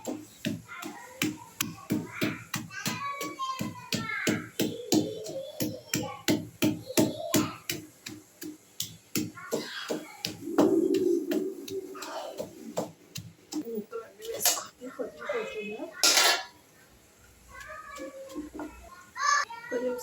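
Raw mango pieces are pounded in a stone mortar for a chutney, giving a steady run of sharp, close knocks about two or three per second, with a voice speaking at times over the rhythm.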